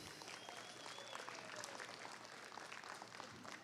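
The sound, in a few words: applause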